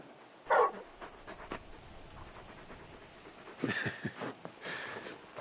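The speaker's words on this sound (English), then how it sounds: "You're just a big puppy, aren't you? A very big puppy." A very big, puppyish dog in Final Fantasy XVI gives a few short, breathy panting and whimpering bursts, with quiet gaps between them and a busier stretch near the end.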